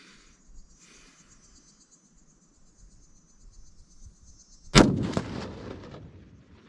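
A single loud, sharp rifle shot from a Ruger American .308 at a range, cracking out of a quiet outdoor backdrop with steady insect buzzing, followed by a rolling boom that echoes away, no speech.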